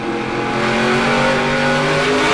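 NASCAR K&N Series stock car engine at full throttle during the 2011 Toyota All Star Showdown race: a loud, sustained roar from close by with steady pitch, heard without voices.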